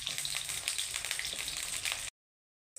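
Brinjal frying in a pan for a Bengali vegetable sabji gives a steady, close hiss of sizzling oil for about two seconds, then the sound cuts out abruptly.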